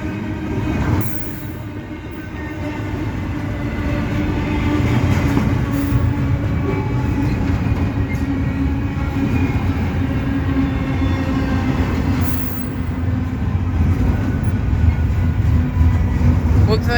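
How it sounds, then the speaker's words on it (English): A short CSX intermodal freight train slows as it rolls past, giving a continuous rumble of wheels on rail with faint squeals and clicking. Someone speaks intermittently over the train. "Looks like we have another short intermodal train."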